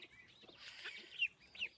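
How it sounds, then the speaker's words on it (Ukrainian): A broody hen clucks softly in a few short, low calls, quiet and close, with no one talking. "Квотічка ось з курчатками заходить."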